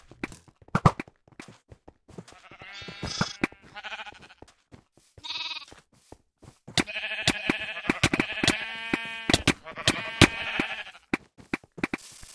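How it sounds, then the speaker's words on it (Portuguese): Repeated bleating of sheep in a video game, several wavering calls close and clear, mixed with rapid footstep clicks and movement sounds. "vem cá, ovelha"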